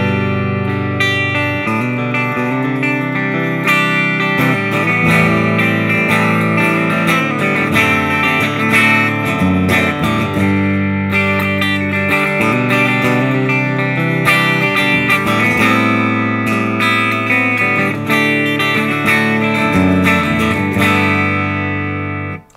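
A Bill Lawrence BL-1 electric guitar on its rear pickup rings out in clean tone with bright, sustained chords and picked notes, played steadily and loud for the whole stretch with no talking.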